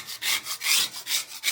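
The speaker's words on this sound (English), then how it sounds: "So I'll just run across like this, get the worst of the loose off." A small hand scraper is held flat and pushed across a wall, stripping loose wallpaper in a quick series of about seven rasping, scratchy strokes, close and alone.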